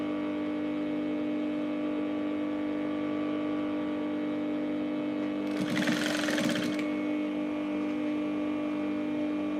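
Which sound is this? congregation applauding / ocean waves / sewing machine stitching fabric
sewing machine stitching fabric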